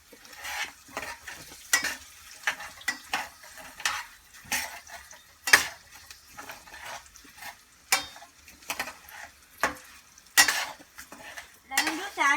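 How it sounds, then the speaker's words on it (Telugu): A spoon stirs salt into lemon rice in a pan, giving repeated scraping and clinking strokes against the metal at an irregular rhythm, close and moderately loud, with no talk. "అది మిక్స్ చేసేసుకోవాలి."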